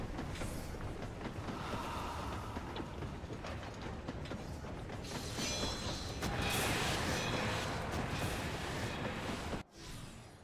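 Steady rumbling and clattering of a moving train in the video game Sigmascape, loud and continuous, swelling around the middle before cutting off abruptly near the end.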